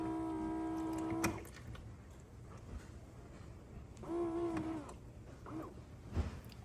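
An espresso maker runs its rinse cycle, giving quiet mechanical whirring and humming tones that start and stop in short bursts, with faint clicks between them.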